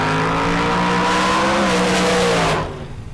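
A drag racing car at a bracket race roars loud and steady under full throttle, its engine note climbing through the run before the throttle lifts and the sound drops away at the end.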